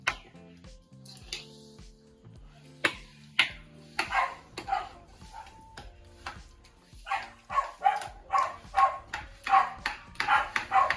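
A dog barks repeatedly in sharp, close bursts, sparse at first and then coming in quick runs, with clattering dishes in a kitchen around it.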